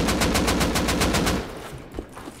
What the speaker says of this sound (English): Hit him with L9 and hit him with AK.